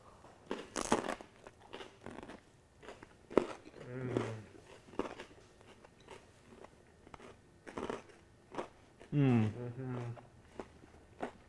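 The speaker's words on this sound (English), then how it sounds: "The crostini is very crunchy" Crunchy crostini topped with steak, horseradish and blue cheese being bitten and chewed, giving several sharp close crunches between stretches of conversation, with people talking over and around the bites.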